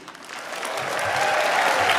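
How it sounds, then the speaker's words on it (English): A lecture audience applauding Mouhannad El-E'ek at the Edward W. Said Memorial Lecture, the clapping swelling from a scatter into a dense, steady roar over a couple of seconds. "we need another round of applause for Mouhannad El-E'ek"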